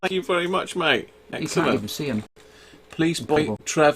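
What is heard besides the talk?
No everyday noises stand out.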